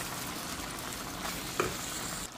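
Tomato paste hits a hot pan for sweet potato shakshuka with peppers, onion and greens, giving a steady close sizzle with one brief scrape or clink partway through.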